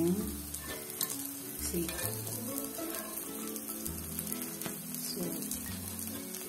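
Foxtail millet paddu (gundupoglu) frying in a pan, a steady close sizzle with stirring clatter running throughout, a brief spoken word over it.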